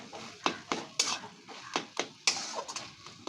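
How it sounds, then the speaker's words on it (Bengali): A ground prawn paste is stirred into khosha bata cooking in a pan, with sharp spoon-on-pan scrapes and taps at irregular intervals over a faint sizzle, close and fairly loud. "এবারে এর ভেতরে আমি চিংড়ি মাছ কিছু বেটে নিয়ে এসেছি সেটি মিশিয়ে দিচ্ছি"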